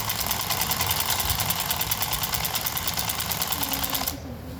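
A sewing machine runs continuously, stitching a seam on a samosa-cut pajama, with a fast, even clatter of needle strokes close by that cuts out abruptly near the end, leaving quiet room tone.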